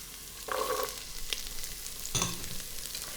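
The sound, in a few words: onions and carrots sizzling in a pot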